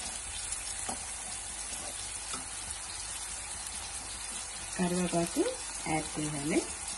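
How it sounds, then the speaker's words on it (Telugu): Green chillies and curry leaves fry in hot oil with a steady, dense sizzle that runs throughout, and a voice speaks briefly over it near the end. "గ్రీన్ చిల్లీ ఆయిల్లోని ఇవి ఫ్రై అవ్వాలి. ఫ్రై అవుతుండగా ఇందులో కరివేపాకు కూడా యాడ్ చేయాలి."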